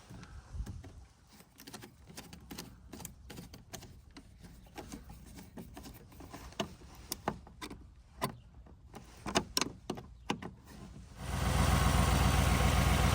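2015 Chevy Tahoe after a serpentine belt tensioner replacement: quiet clicks and handling knocks, then the engine roars into a loud, steady, even run for the final seconds.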